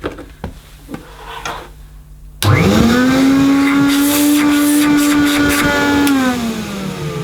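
A vintage Hoover 427 cylinder vacuum cleaner in poor health switches on abruptly after faint handling noises, its motor spinning up to a loud steady whine and drone that holds, then dips slightly near the end.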